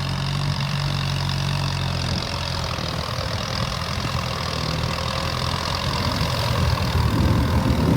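A Kubota M9540 tractor idles on a sugarcane field while hitched to a large fertilizer spreader, its diesel engine giving a steady, loud, close chugging rumble with a slightly rougher patch toward the end.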